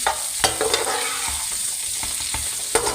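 Chopped onions fry in hot oil in a pan for a home-style okra dish, a continuous close sizzle broken by sharp scraping clacks as a spatula stirs them.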